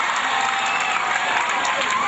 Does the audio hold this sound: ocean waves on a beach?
no